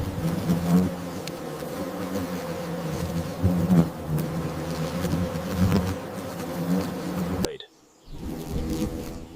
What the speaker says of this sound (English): triggering a frenzied and desperate defense from the wasp colony